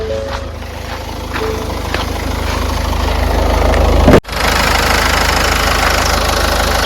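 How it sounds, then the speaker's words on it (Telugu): Ford Figo Aspire Titanium engine idles with the bonnet open, a loud, steady low rumble with a faint rhythmic knock, briefly dropping out for a moment before resuming at the same level. "ఇప్పుడు ఇంజన్ ఆన్లో ఉంది, మీరు ఇంజన్ సౌండ్ అయితే వినొచ్చు"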